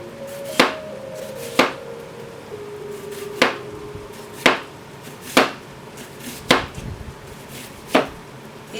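A knife julienne-cuts vegetables on a cutting board in seven sharp, evenly spaced chops about a second apart, close and crisp over a quiet room hum, with no one speaking.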